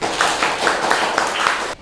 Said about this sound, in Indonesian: Tepuk tangan lagi untuk Galang